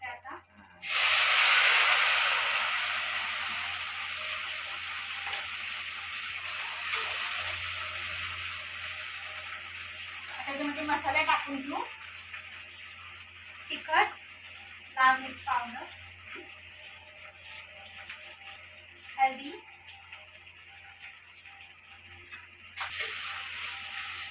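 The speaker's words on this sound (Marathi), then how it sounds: "मोहरी फुटत असते जिरे तडतडलेत" Mustard seeds and cumin crackle in hot oil in a home kitchen, a steady sizzling hiss with scattered pops, while someone talks intermittently over the frying.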